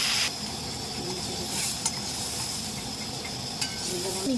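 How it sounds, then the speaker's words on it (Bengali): Wild mushrooms being stirred in a pan to cook off their water, a continuous moist sizzle and hiss with a few soft scrapes of the spoon. "আমি এটাকে নড়ে চড়ে একটু জলটাকে শুকনো করে নেবো"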